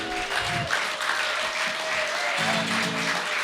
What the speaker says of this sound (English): Keep that applause going for Kelly Manhattan, everybody.